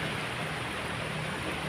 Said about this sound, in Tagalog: Umuulan na naman dito sa Tayabas.